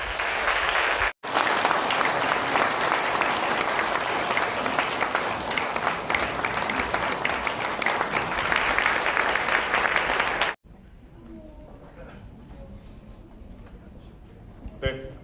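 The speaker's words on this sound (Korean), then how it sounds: "우리 큰 박수로 기뻐해 주셨으면 감사하겠습니다" A church congregation claps at an ordination service with loud, sustained applause. It breaks off briefly once, then runs for about ten seconds before dropping to faint room noise.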